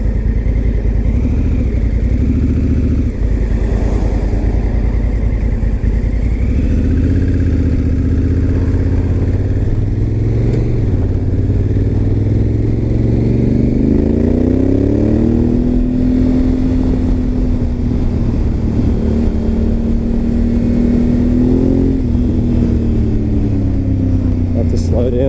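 An Africa Twin motorcycle engine while riding, a loud steady drone with the pitch sliding up and down through gear changes, continuous and close, with wind rumble underneath.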